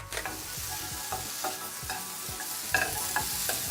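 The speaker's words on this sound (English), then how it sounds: "I'm just going to place them in the pan here on medium heat." Pieces of butternut squash seasoned with salt and pepper sizzle in a pan over medium heat, with a steady frying hiss and repeated stirring scrapes, close and without talk.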